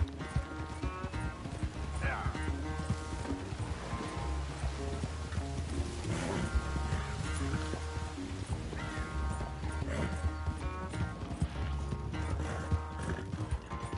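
Horse hooves clip-clopping in Red Dead Redemption 2 on PS5, a steady trotting rhythm running throughout beneath dense, loud game music and ambience.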